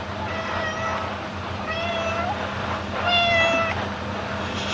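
A cat meows three times in a row, each call a drawn-out, mid-pitched wail, fairly close over a constant background hum indoors.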